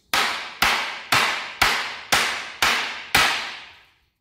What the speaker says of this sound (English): What I usually like to do is get the hammer and smash them out